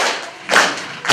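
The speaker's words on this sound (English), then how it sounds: "Oh, the Arab hand clap." Arab hand clap rhythm performed at a lecture, two sharp loud hand claps spaced about half a second apart after a fading earlier clap, close and alone without talk.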